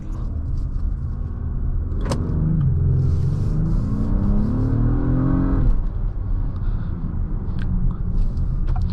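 A 2024 Acura MDX Type S pulls away in sport mode, its engine rumbling up through rising revs with a gear change before settling to a steady cabin drone, a sharp click near the start.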